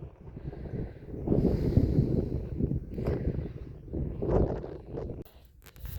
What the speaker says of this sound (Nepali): डाँडामा हावा चलिरहन्छ नि